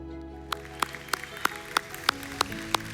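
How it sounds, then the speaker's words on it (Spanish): A church service congregation claps in a steady, even rhythm, about three claps per second, over sustained musical tones, with no voices. "Un fuerte aplauso al Señor."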